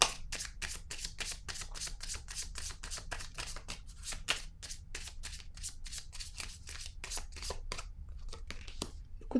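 Tarot cards being shuffled and handled close up, a dense run of crisp, rapid riffling flicks with brief pauses, and no talk over it.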